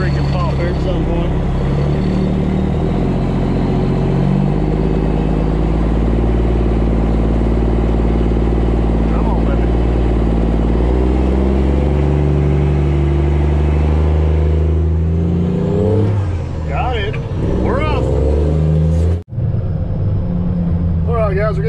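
A pickup truck engine labors while pulling an equipment trailer up a tight, awkward driveway, giving a loud, sustained low rumble that shifts pitch as it strains and eases, with a person talking over it.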